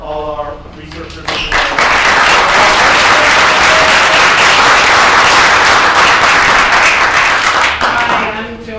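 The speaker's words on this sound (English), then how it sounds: "let's give a round of applause for all our researchers" A large audience bursts into sustained, dense applause for researchers at an academic community-of-inquiry talk, clapping swelling quickly and holding steady for several seconds before tapering, with brief speech at the start and end.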